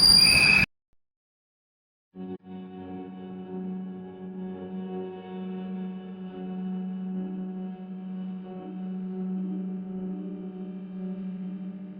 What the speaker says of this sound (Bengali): ট্রেনটা জাস্ট দুর্গাপুর ক্রস করলো